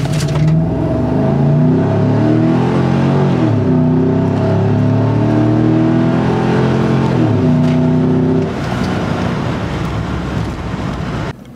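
A car with its stock air filter runs a baseline 0-60 acceleration, the engine note climbing loudly and dropping back at each upshift, heard from inside against wind noise before it eases off.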